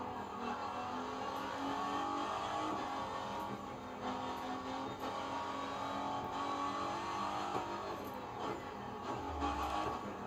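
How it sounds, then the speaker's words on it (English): A Ford GT in the racing game The Crew 2, heard from the interior camera on a redwood forest road, holds a steady engine drone with a high turbo whine running continuously underneath, loud and close with no talking. "You can hear the high-pitchedness of the turbo."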